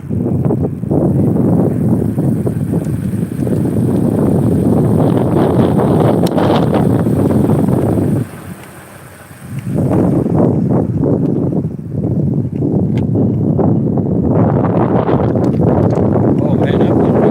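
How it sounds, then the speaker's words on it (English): Strong wind buffets the microphone during an e-bike ride outdoors, a loud low rumbling roar that persists almost throughout with a brief lull midway, while people talk over it. "that was windy out here today"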